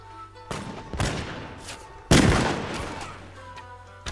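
Gunners fire guns in Mount & Blade: Warband, with three distinct loud reports at roughly one-second intervals, the last the heaviest, followed by fainter distant shots.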